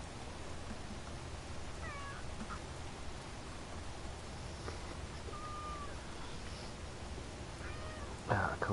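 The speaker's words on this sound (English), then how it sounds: "co-pilot Kitty has returned." A house cat gives a few soft, faint meows and a short chirp, scattered over steady background hiss, with a brief louder rustle near the end.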